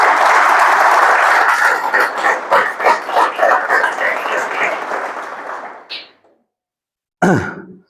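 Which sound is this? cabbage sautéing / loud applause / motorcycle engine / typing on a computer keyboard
loud applause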